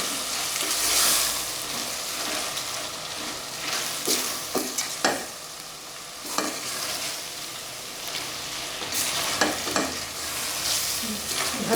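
Crushed ginger, garlic and green coriander are stirred in a sizzling frying pan with chicken liver, a continuous hiss of frying broken by scraping and clinking strokes of the spoon against the pan, with no talk.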